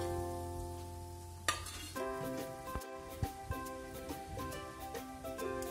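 Chana vadi, gram flour dumplings, frying in hot oil, a soft crackling sizzle that runs steadily under melodic background music, with a few sharper pops and clicks.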